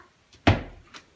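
A drawer in a penthouse apartment slides open with one sharp wooden thunk that fades quickly, then a faint knock follows, close and alone.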